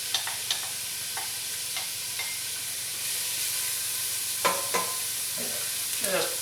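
Chopped yellow onion dropped into hot olive oil in a pan, with a steady frying sizzle and hiss and a few soft clatters and stirring knocks on top, heard close up with no talking.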